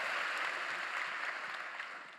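A church congregation during a Sunday service claps in a steady, dense round of applause that slowly fades toward the end.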